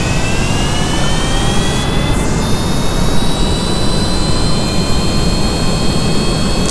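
Stock airplane jet engine in Kerbal Space Program flying at constant thrust, a loud steady roar with high whining tones that shift slightly partway through, with no voices.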